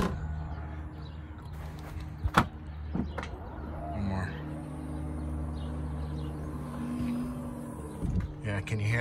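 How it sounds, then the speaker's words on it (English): A 2015-2019 GM Tahoe power liftgate runs through its cycle, a steady motor hum with a soft gas-strut release and a few sharp clunks, with a person talking nearby. "you can hear the sort of gas releasing where I didn't hear it before"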